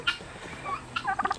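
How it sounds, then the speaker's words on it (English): Backyard turkeys gobble in quick rattling bursts, one near the start and a longer run at the end, fairly close and moderately loud over a quiet outdoor background. "Look at how big my turkeys are."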